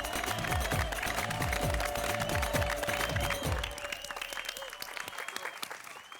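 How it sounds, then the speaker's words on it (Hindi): Loud applause from a crowd at a children's celebration on a family TV show, dense clapping sustained for several seconds before thinning out toward the end. "आइए दुनिया भर के बच्चों के लिए हम एक बार जोरदार तालियां बजाते हैं।"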